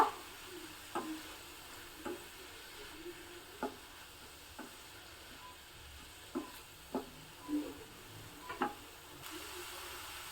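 Fenugreek leaves sauté in a pan with soft, quiet sizzling and a scatter of light stirring scrapes and taps, faint and without voices.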